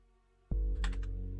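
Keyboard keys and a mouse clicked during play of a computer game demo, with a sudden thump followed by a short flurry of close, crisp key taps and clicks.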